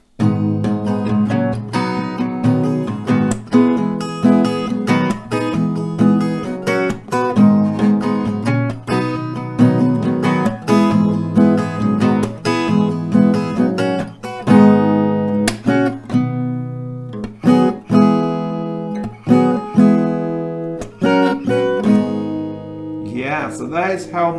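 Acoustic guitar strummed in full chords, playing a song, a loud continuous rhythmic strumming pattern with ringing chords and brief pauses, played close and alone.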